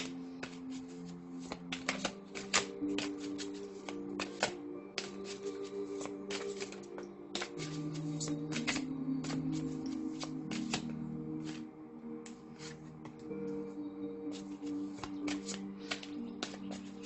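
Tarot cards being shuffled by hand, a steady run of soft riffling flicks and taps close up for the whole stretch, with no talking.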